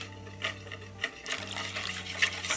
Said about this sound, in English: We're going to pour the milk